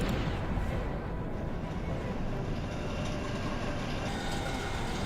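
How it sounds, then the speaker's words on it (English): Train rolling along a rail in Star Wars: Shadows of the Empire, a dense steady rumbling roar that stays loud and unbroken throughout. "So I'm not sure how this rail is supporting this train when there's absolutely nothing underneath it."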